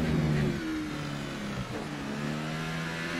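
A McLaren F1 car in F1 2018 at the Azerbaijan Grand Prix screams along at high revs, its loud, continuous engine whine sliding down in pitch as it shifts through the gears.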